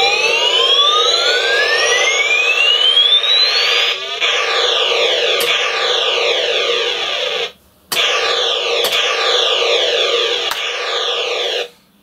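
Missile Command video game sounds on a BBC Micro: loud, steady electronic tones with repeated falling sweeps and rising whistles, running nearly without a break and cut by one short gap.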